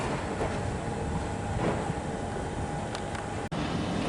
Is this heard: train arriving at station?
yes